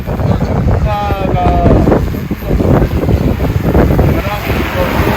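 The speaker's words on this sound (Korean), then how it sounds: "지금 바람이 너무 세서" Strong gusty wind buffets the microphone during an outdoor flight test of an agricultural spraying drone built on an EFT G416 frame, roaring steadily throughout with a faint whine rising and falling underneath.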